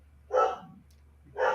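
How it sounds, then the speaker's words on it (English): Two sharp, close barks from pet dogs, less than a second apart, with a low steady hum underneath. "I have no idea why my dogs are going nuts."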